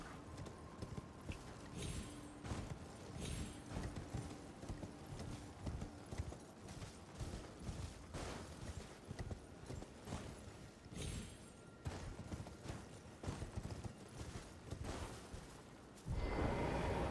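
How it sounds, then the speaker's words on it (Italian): Horse hooves galloping in the video game Elden Ring, a quiet, rapid clip-clop rhythm that runs steadily throughout and is joined by a brief louder burst of sound at the very end. "Prendiamo il cavallo e scendiamo."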